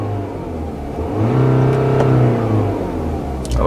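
A BMW X5 sDrive25d, 2015 F15, revs its diesel engine when the accelerator is pressed: a short, rising engine roar swells and then falls back toward idle, heard close and alone.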